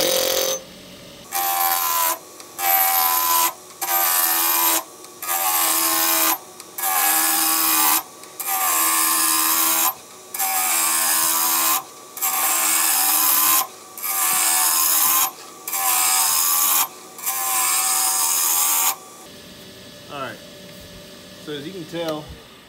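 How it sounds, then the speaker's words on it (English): Wood lathe turning with a roughing gouge while making an ice cream scoop: a loud, steady scraping hiss broken into regular repeated passes about every second and a half, ending with quieter clicks and handling noise. "So, I'm gonna start off with a roughing gouge and start rolling off some weight."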